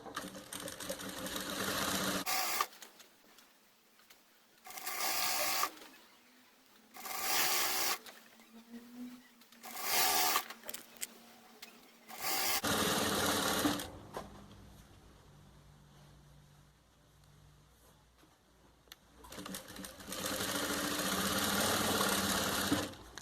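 A sewing machine stitches an apron hem in short bursts, four quick runs of steady whirring separated by pauses, then a longer stretch of stitching and another burst near the end, close and clear with no talking.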